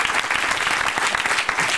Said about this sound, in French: On va applaudir Manon très fort.